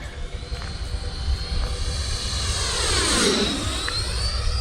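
A Freewing F-5N Tiger II 80mm RC model jet roars past with a rising then falling whine, loudest in the middle, over steady outdoor rumble.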